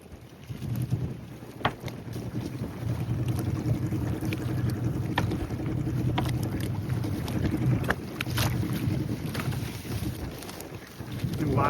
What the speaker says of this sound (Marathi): वारं असल्यामुळे लाटात त्याच्यामुळे मस्तच हलता बोट